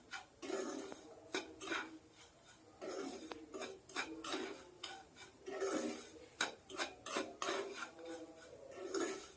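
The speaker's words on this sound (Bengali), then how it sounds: "এবার সব কিছু দিয়ে ভালো করে আবার একটু নাড়াচাড়া করে নেব।" Samosa filling with dry fruits is stirred in a pan, giving repeated scraping and clinking strokes of a metal spoon against the pan in an irregular rhythm. The strokes are close but fairly quiet, with no voices.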